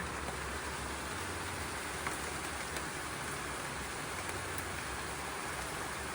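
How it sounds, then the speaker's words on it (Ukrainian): Soft, steady patter of rain falling outdoors, heard through an open window, an even hiss of drops from a short distance with no voices. "У нас такий дощик іде."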